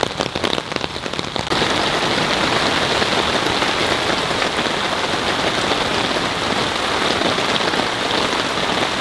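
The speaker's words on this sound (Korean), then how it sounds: "빗소리 좋고." Heavy rain pours onto a camping tent during an overnight downpour beside a swelling valley stream, a dense, constant hiss with close raindrop patter, no voices.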